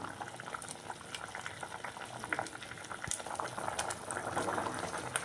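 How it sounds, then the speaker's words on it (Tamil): A pot of paruppu urundai kuzhambu, a curry of lentil balls, boils and bubbles at a steady simmer, a soft continuous crackle of popping bubbles, close and fairly quiet, with no voices. "நல்லா ஒரு 5 நிமிஷம் நல்லா கொதித்து இந்த உருண்டைகள் நல்லா மிதந்து வந்துடும்"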